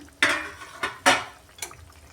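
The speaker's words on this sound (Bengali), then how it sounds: "ঢাকাটা সরিয়ে নিচ্ছি।" A lid coming off a pan of light fish curry with eggplant, giving a few close metallic clanks and scrapes, three sharp bursts over about two seconds with faint bubbling beneath.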